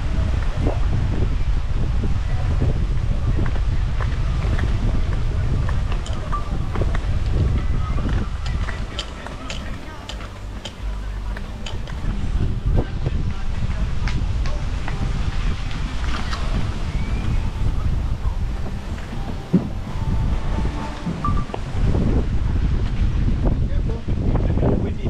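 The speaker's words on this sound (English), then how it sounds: "Oh no, so windy today." Strong, gusty wind at Bacalar buffets the microphone in a continuous low roar, with people talking intermittently underneath.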